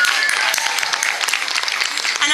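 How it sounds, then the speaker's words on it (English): Crowd at a NAIDOC march in Melbourne clapping steadily for a couple of seconds, dense broadband applause with faint voices mixed in. "we all should just give ourselves a big round of applause"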